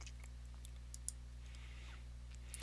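A computer mouse gives a few faint, sharp right-clicks against a low steady background hum, with one slightly louder click near the middle; no one speaks.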